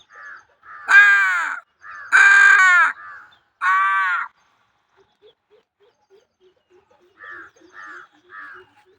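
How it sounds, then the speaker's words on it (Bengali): Crows caw by a river in a village, several loud harsh calls close by, then fainter rapid caws trailing off, with soft ticking sounds in between. "তার সাথে সাথে কাকও ডাকছে"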